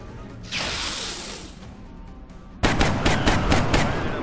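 Rapid bursts of gunfire from reaction shots in the video game XCOM Long War: a sustained rattling volley, then a short lull, then a loud, sharp string of about five evenly spaced shots, close and with no talk.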